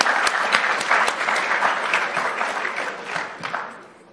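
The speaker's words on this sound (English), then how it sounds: "Yeah, I think Charles deserves a round of applause" Applause from an award ceremony audience in London, a dense, steady wash of many hands clapping close by that holds for about four seconds and then fades out at the end.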